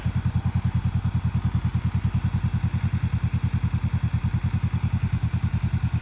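A motorcycle engine idles steadily while the rider works the clutch to find the friction zone, giving an even, rapid low thumping pulse that stays loud and close throughout, with no talking.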